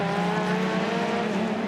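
A Porsche race car engine drones loudly and steadily as it passes on track at the 2011 Australian GT Championship in Adelaide, a sustained mechanical roar filling the whole moment with no voices.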